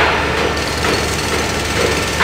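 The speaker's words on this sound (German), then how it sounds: "Das ist eine große Baustelle." Dense, continuous construction noise from a large building site in the SimCity 3000 video game, a loud jackhammer-like rattle and hammering that runs steadily throughout with no pauses.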